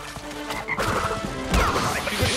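A frog croaks in Crash Bandicoot 3 amid busy game effects, with a thwack and crash around the middle and loud in-game sounds throughout.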